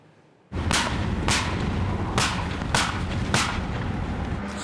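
Five heavy blasts from a KS-19 anti-aircraft gun fire at a steady interval of roughly one per second, each a sharp loud crack over continuous rumbling background noise.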